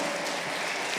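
Congregation clapping during a church sermon, a brief, dense wash of applause that stays even and fairly loud for about a second, with no speech over it.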